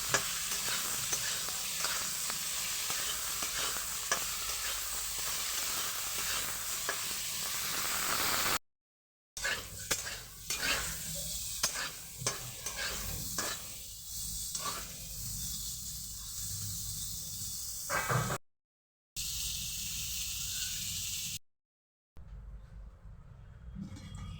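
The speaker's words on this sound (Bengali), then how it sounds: "ফুলকপিগুলোকে এবার আমি সুন্দরভাবে ভেজে নেবো" Loud, continuous sizzling of cauliflower frying in a wok, with scraping stir sounds and brief pauses in between.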